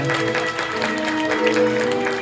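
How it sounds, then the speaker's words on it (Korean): Wedding guests applaud steadily in an indoor banquet hall, a dense, continuous patter of clapping at moderate level with faint musical tones underneath. "여러분 따뜻한 박수 부탁드립니다."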